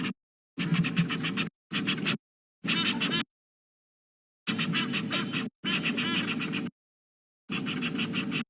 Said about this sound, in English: A goose flying in has disturbed the resident pair of geese,